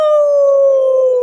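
A person imitates a dog with one sustained, loud, close howl that holds a steady tone and slowly sinks in pitch, heard alone without talk.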